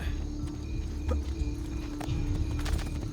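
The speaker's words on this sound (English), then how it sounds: "Yeah, there's a horse." Horse hooves clip-clop in the Assassin's Creed 2 video game, a steady walking rhythm under game ambience and a low background hum, moderately loud throughout.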